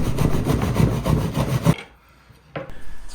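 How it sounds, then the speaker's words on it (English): Hand saw making a final straight cut through wood to free a hatch panel in a campervan, steady close rasping strokes for about two seconds, then a pause and a brief resumed scrape. "he's left a little corner in there so that it holds onto the wood for him and keeps it steady while he saws this last cut"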